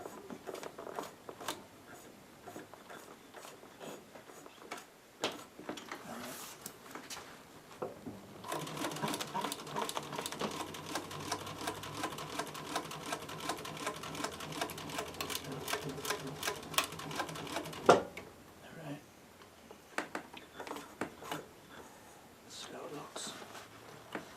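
A sewing machine stitches upholstery welt on a vintage bucket seat, starting with slow hand-walked stitches and then running in a fast steady rattling burst before stopping, with someone talking nearby.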